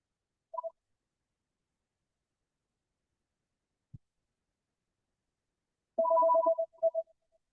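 A house phone rings in a quiet room, a short electronic chirp early and then a louder warbling ring burst near the end, each fairly faint and separated by silence.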